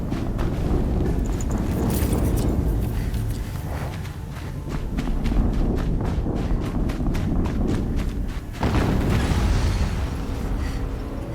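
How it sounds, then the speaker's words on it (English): Explosions in Horizon Zero Dawn, booming blasts amid dense rumbling action, with rapid clattering footfalls and a renewed surge of noise near the end; no voices. "Another explosion."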